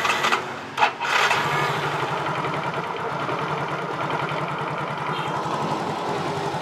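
Faulty motorcycle engine restarting, a short cranking burst then a steady buzzing idle that runs on evenly, fairly close and loud.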